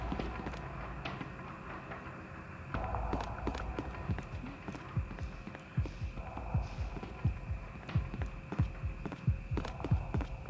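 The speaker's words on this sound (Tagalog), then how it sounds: "malakas na naman yung heartbeat ng natin, yung bata natin." A loud, steady heartbeat thumps through a low background hum in the Death Park horror video game, its deep pulses repeating in an even rhythm and growing somewhat stronger toward the end.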